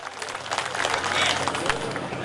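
A crowd at a BJP candidate's election rally claps, with a dense patter of applause and background chatter rising and holding at moderate volume.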